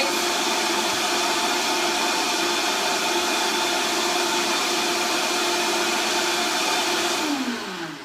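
A Vitamix high-speed blender blends almond milk with a loud, steady roar that runs nearly unbroken, then winds down at the very end. It is close and heard alone, with no talking.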